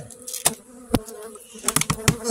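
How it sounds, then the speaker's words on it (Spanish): Honey bees buzz around a hive in a new apiary, near and loud, the droning hum broken by sharp tapping and clicking knocks from working the hive, with no talking. "esta es una abeja, no es una avispa"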